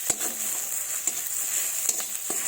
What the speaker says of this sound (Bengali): পেঁয়াজগুলো আর একটু আমি ভেজে নেব।